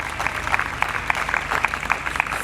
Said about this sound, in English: A round of applause for Art of Living.